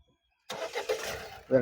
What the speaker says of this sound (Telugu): ఒకసారి ఇంజిన్ కూడా స్టార్ట్ చేసి చూపిస్తానండి